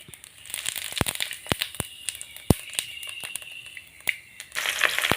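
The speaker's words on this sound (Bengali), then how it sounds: "এই যে এই পরিমাণ জিরে আর 5" Cumin and five-spice seeds sizzle and pop in hot oil, sharp close crackles scattered over a continuous frying hiss that swells toward the end.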